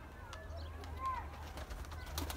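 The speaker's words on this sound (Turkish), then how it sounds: "Kuşları dışarı alsana bir Timur." Pigeons coo softly near a loft, the calls faint under a steady low rumble, with a few light flutters or chirps mixed in.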